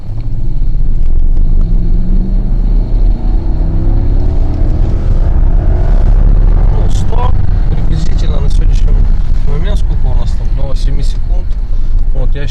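A Lexus LS 460 Long accelerates hard from a standstill on a road, its engine rumbling low and steady beneath loud talk and laughter from people inside the car.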